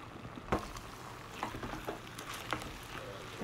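Spaghetti being stirred in a pan as grated cheese melts into it, with soft intermittent scraping and light clicks of a utensil over a faint sizzle, close and quiet.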